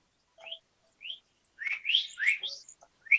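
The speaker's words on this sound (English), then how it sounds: "And the birds chirping on the track" Birds chirping within a played song track: short bright tweets and whistled trills in separate bursts, then a busier run of chirps near the end, clear against a silent background.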